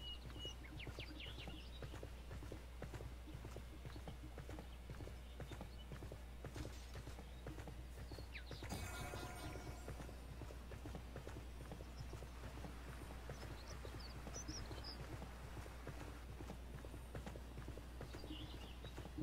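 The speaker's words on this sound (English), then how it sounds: "He's on a donkey, how funny." Donkey hooves clip-clop steadily in the online game ArcheAge, a faint regular patter of footfalls over a low ambient bed with occasional bird chirps.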